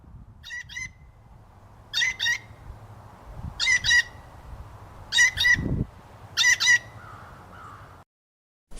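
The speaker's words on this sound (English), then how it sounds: "Blue jay." A blue jay gives loud, harsh squawking calls in five spaced bursts, each a quick double or triple jeer, over faint background noise.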